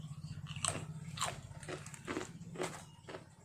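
Crunchy bites into a chocolate waffle snack, four or five crisp crackling bursts spaced about half a second apart, close and fairly loud over a steady low hum.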